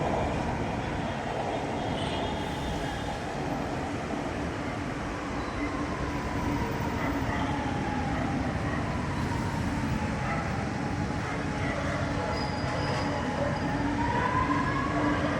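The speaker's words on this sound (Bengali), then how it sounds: "এখান থেকে আর একটা ট্রেন যাচ্ছে, আপে ডাউনের দুটোই চলছে" Chennai metro trains running on both the up and down lines, a continuous loud rumble of wheels and carriages with rising and falling whines as the trains pass close by.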